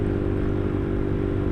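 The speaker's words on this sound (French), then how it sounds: "La moto sort du garage" A motorcycle idles as it rolls out of a garage, a steady low engine drone with a regular throb, close and loud for a short moment.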